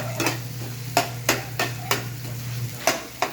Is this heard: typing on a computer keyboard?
no